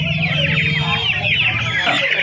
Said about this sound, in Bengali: এখানে বাংলাদেশি মুরগির বাচ্চা রয়েছে প্রচুর রয়েছে